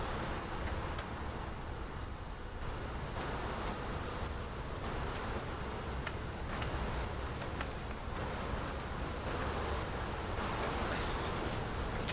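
Bees buzz around an open hive during an inspection, a continuous close drone with faint rustling as frames are handled, no voices.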